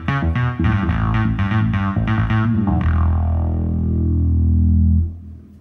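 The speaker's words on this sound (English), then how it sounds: "Yeah, synthesized bass like rubber." A rubbery synthesized bass patch on a Roland G-70 arranger keyboard plays a quick series of buzzy notes, then one long sustained tone that swells and cuts off, loud with no voices.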